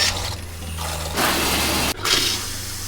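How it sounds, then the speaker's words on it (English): Liquid RV antifreeze gushes steadily from a faucet in a Winnebago Micro Minnie 2100BH travel trailer, a continuous running-water rush with a low pump hum beneath, briefly cutting out and then resuming. "We have a little bit of antifreeze left in the jug, so we're gonna run a little bit more through the faucets."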